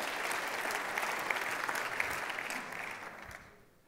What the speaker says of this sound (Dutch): En geeft u hem ook een hartelijk applaus.